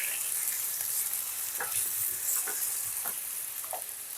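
Lightly fried potatoes and chopped carrots crackle softly in a pan while being stirred, with several scraping strokes over a constant quiet sizzle and no voices.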